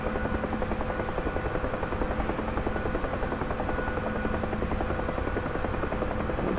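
A Huey helicopter in the DCS flight simulator drones continuously from inside the cockpit, its rotor beating in a fast, even chop over a dense engine whine, loud and unbroken throughout.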